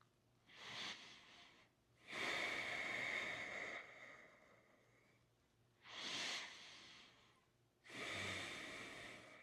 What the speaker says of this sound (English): And still breathing in and out through your nose.